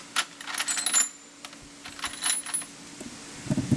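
Small metal fasteners, nuts and bolts, clink and rattle against each other in short, uneven bursts, close and bright, with quiet gaps between the handfuls.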